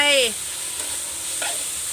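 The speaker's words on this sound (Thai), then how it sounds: "ผัดให้เข้ากันนะคะ" Pork belly stir-fried with red curry paste in a pan for a pork and pineapple curry, a short clatter of a utensil followed by soft steady sizzling.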